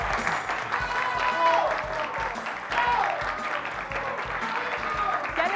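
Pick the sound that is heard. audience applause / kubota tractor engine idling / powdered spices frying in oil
audience applause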